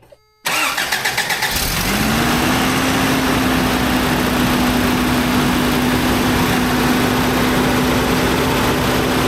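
A restored Toyota truck engine cranks briefly and catches, then settles into a loud, steady idle with a rising whine, running alone close by.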